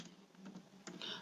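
Soft, quiet keyboard typing on a computer, a handful of light key clicks spread across a second with a slightly louder burst of taps near the end.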